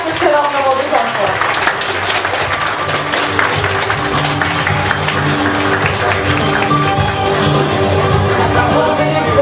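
Guests at a wedding party applaud, a dense, steady wall of clapping sustained for the whole stretch, loud and close, with voices mixed into the crowd noise.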